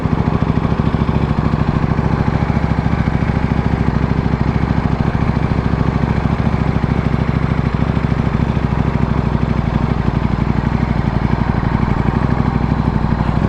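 A KTM motorcycle engine held in second gear drones steadily and loudly throughout, with a constant low rumble and no clear shifts or pauses.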